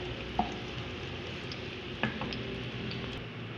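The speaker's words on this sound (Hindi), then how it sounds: "अब इसी ऑयल में लहसुन डाल देते हैं" Garlic frying in oil in a pan for white sauce pasta, a steady close sizzle with a couple of brief clinks from stirring, no voices.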